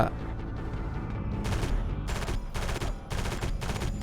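Gunfire in the Area 51 video game while destroying a power core: a calm stretch, then several loud rapid bursts of automatic fire in close succession.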